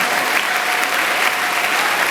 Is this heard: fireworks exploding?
no